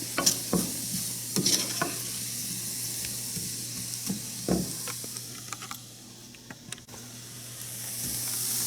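Vegetables including peppers and zucchini sauté in a pan, a soft steady sizzle punctuated by repeated spatula knocks and scrapes, close by and with no speech.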